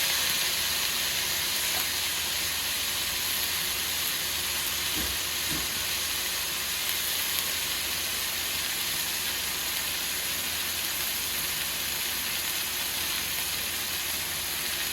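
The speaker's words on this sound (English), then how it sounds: "I'm going to go ahead and add my pork chops into my skillet" Pork chops sizzle in a hot skillet, a steady, even hiss of frying fat that holds at low volume for the whole stretch with no talking over it.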